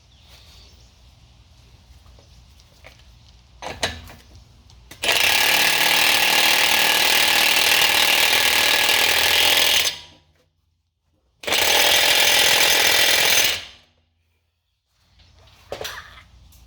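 A power tool tightens the front axle nut on a 2012 BMW X5 xDrive50i in a loud, close, sustained whir lasting about five seconds, then a second two-second burst, with quieter clicks and clanks of tools around it.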